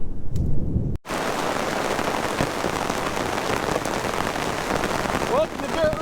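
Heavy rain pours steadily onto a truck tent during a thunderstorm, a broad, continuous hiss and patter with a brief rumble of thunder, following a short burst of muffled sound at the start.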